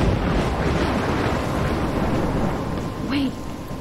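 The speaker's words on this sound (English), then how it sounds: "I'm trapped in a storm?" Storm in the video game Life Is Strange: a steady loud roar of wind and rain fills the whole stretch, with a brief rumbling swell near the end.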